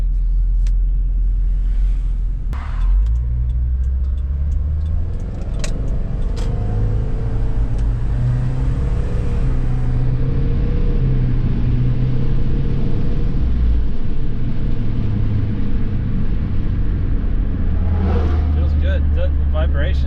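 A Subaru drives around the block after a CV axle replacement, its engine rumbling loudly and steadily from inside the car with road noise, occasional accelerations and a few sharp knocks or bumps.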